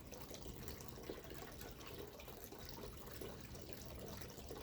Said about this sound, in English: we hear the water